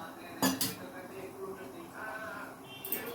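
A metal pan is set down on a stove burner to fry fish in oil: a sharp, close clank near the start, then a lighter clink, against a quiet kitchen background.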